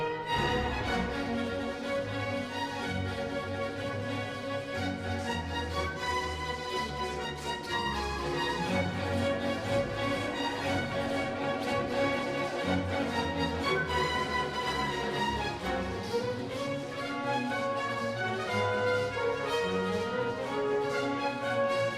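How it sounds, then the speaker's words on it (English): Orchestral opening of Milhaud's ballet Le Bœuf sur le Toit plays continuously for the whole stretch, a full, busy ensemble with jazzy syncopated rhythm and bright melodic lines over steady low accompaniment. "Let's hear a little bit of the beginning of the very opening of Milhaud's ballet"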